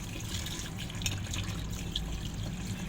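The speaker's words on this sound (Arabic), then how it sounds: "ونفتح الميه سرسوب صغير كده زي ما احنا شايفين، وهغسل تحتيه القواقع دي واحده واحده" A thin stream of tap water trickles steadily while clams are rinsed one by one under it to remove sand, a close, continuous splashing flow with no talking.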